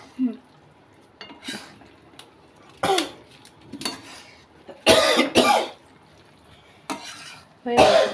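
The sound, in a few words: coughing while cooking pasta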